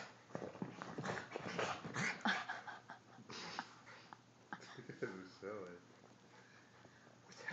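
A puppy or young dog plays and whimpers with high whines, yips and breathy snuffles, set close amid busy rustling movement noise.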